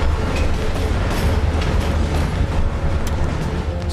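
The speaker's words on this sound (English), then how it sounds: "It's like it coincides with like the train bumping." Continuous heavy rumble of a moving train in the Call of Duty Black Ops Cold War campaign, a steady low roar with faint clattering bumps throughout, close and loud with no talk.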